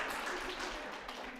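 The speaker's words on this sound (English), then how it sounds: "Now you can clap for Nate." An audience claps for a boy named Nate after he completes a task, a short, steady spread of applause at a modest level with no voices over it.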